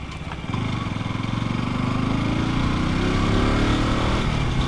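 A KTM RC 200 motorcycle engine revs up under throttle, its buzzing note climbing steadily in pitch and growing louder over a few seconds, close and continuous, with no talking.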